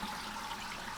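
Water pours steadily into a home aquarium tank as it fills, a continuous close rushing wash with no pauses and no voices.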